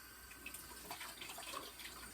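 Tap water runs steadily into a kitchen sink while something is rinsed during home cooking. The hiss is faint and continuous for a couple of seconds, with no voices.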